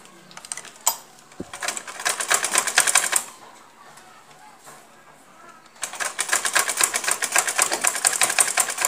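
A sewing machine double-stitches a kameez seam in two bursts of rapid, even needle chatter, separated by a short quiet pause, close and fairly loud.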